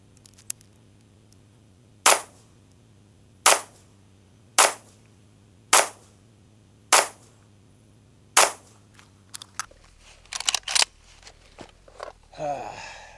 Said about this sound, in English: That might have been 6 rounds.